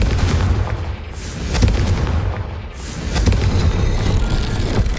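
Fiery Confringo spell blasts in Hogwarts Legacy gameplay: booming, explosive bursts over a dense low rumble, rising and falling twice in close succession, loud and without talk.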